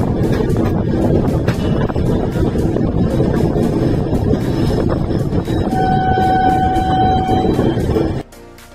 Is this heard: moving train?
yes